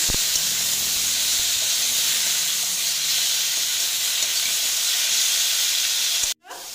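Turmeric frying in a pan for dalia khichdi, a steady loud hiss and sizzle that runs unbroken for several seconds and then cuts out abruptly near the end.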